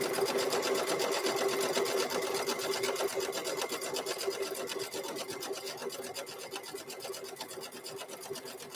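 A sewing machine stitches steadily down a raw fabric seam, its rapid needle chatter running continuously and close, gradually easing slightly in loudness.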